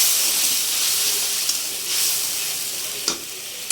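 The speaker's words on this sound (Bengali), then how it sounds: "একসাথে কষিয়ে নেব।" Hilsa fish sizzles and fries in a pan of spices, a steady dense hiss with brief sharper spits and crackles, close and loud throughout with no talking.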